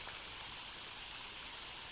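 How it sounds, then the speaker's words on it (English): Rain falls outdoors during a bluegill fishing trip, a faint, even wash of hiss with no distinct drops or gaps. "Rain! Dude."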